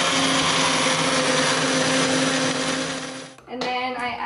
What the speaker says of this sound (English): And then you blend it in your trusty blender.